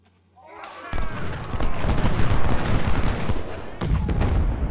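Dense, continuous artillery and gunfire from a Civil War battle in the strategy game Ultimate General: Civil War, a loud rumbling barrage of booms and cracks that builds after a quiet start and keeps going to the end.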